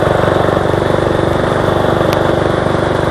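A small Craftsman riding mower engine runs steadily in high gear, below governed top speed, with a loud, close, continuous throbbing drone and a fast even pulse throughout.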